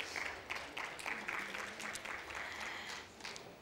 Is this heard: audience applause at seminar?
yes